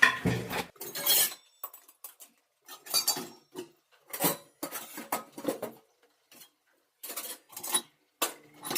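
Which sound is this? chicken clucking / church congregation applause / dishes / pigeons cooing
dishes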